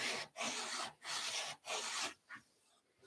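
Abrasive paper sanding the curved wooden part of an Adirondack chair, four steady rasping strokes with short pauses, then a softer final stroke, close and alone.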